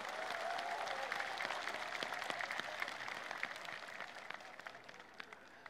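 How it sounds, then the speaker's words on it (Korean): An audience gathered in Gimhae for Roh Moo-hyun's farewell after leaving the presidency breaks into sustained applause, a soft, dense patter of many hands with scattered sharper claps, fading slightly toward the end. "큰 박수로 화답해 주시기 바랍니다"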